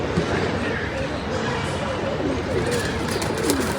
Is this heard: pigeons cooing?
yes